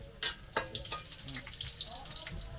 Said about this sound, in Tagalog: Igisa natin yung luya